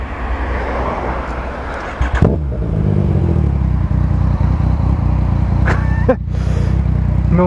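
A motorcycle is started with a sharp crank, then its engine settles into a loud, close idle with a few blips of revving, and a brief cough near the end.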